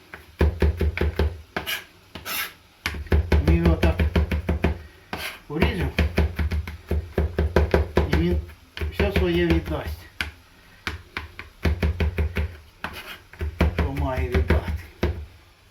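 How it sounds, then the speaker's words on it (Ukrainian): A knife chops crushed garlic on a board in steady, rapid strokes, close and crisp, coming in repeated bursts with short pauses, while a person talks between them. "Часник нарізали."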